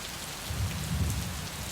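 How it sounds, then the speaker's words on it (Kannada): Dense, steady downpour of heavy monsoon rain in Mangaluru with a low rumbling undertone, constant and close throughout. "ಈ ಒಂದು ಸೀಸನ್ನಲ್ಲಿ ಭಾರಿ ಪ್ರಮಾಣದಲ್ಲಿ ಮಳೆ ಬೀಳ್ತಾ ಇದೆ"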